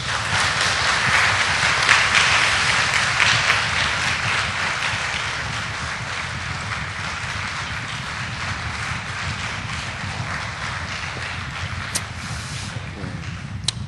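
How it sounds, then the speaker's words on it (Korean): A church congregation applauds in a sustained, dense wash of clapping that holds fairly even for the whole stretch before easing slightly toward the end. "다시 한번 박수해 주시겠습니까?"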